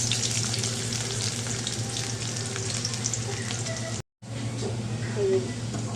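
Onion and garlic fry in oil in a wok, giving a steady, close sizzling crackle that runs throughout with a brief drop to silence near the end.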